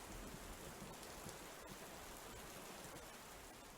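Steady rain in the Miss Clue mystery game The Secret of the Haunted Garden, an even, dense hiss of falling drops that continues unchanged throughout.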